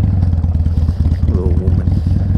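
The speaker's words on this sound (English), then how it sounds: "She's still in her high idle mode." A motorcycle engine running at high idle, a steady loud rapid chugging pulse close by, with a brief rise and wobble in pitch midway.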